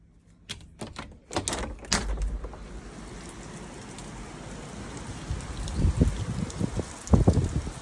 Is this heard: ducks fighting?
no